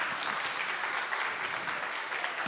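An audience at a school event claps in dense, continuous applause that holds steady and fairly loud from start to finish with no voices over it.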